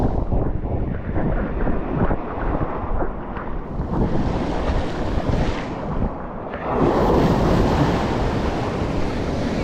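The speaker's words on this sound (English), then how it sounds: "Windy day today" Strong wind buffets a microphone at the sea while surfing in Hawaii, a dense, roaring rush that swells and eases, blended with the wash of small surf and no talking.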